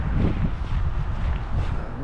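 Steady low rumbling winter wind buffeting outdoors in Kaunas, Lithuania, continuous and fairly loud throughout with no other distinct sounds.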